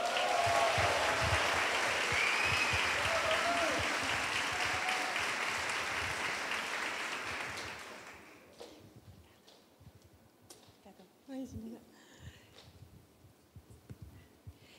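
An audience at a church women's meeting applauds loudly and thickly for about eight seconds, then the clapping fades into a quiet room with a few scattered sounds.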